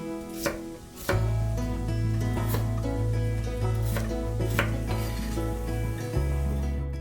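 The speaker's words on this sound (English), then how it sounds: "Chop some potatoes." A knife chops potatoes steadily on a cutting board, with sharp, rhythmic knocks close up over a low steady hum and no voices.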